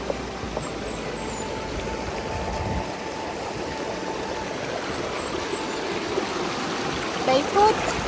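A stream in Jubgan, San Francisco, Surigao del Norte flows with a steady broadband rush and trickle, close and continuous, with faint voices and occasional bird chirps in the background.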